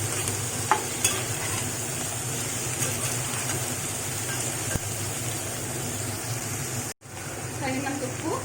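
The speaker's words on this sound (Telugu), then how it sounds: "ఉల్లిపాయలు వేగిన తర్వాత బంగాళదుంపలు, ములక్కాడ, వంకాయ వేసుకొని బాగా కలుపుకోవాలి" Vegetables being stirred in a frying pan for a mixed vegetable curry of potatoes, drumsticks and eggplant, a steady sizzle under soft scraping that runs throughout with a brief cut near the end.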